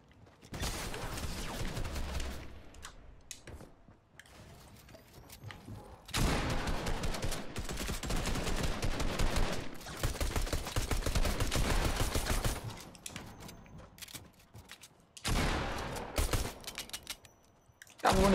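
Bursts of automatic gunfire in Fortnite come in several long, loud rattling volleys separated by quieter gaps with mechanical clicking, sustained rapid fire dominating the scene.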